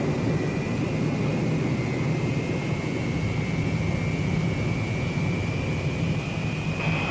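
A steady, loud jet engine roar from a Boeing B-47 Stratojet bomber on its takeoff roll, with a sustained high whine, continuous throughout and close by, with no voices.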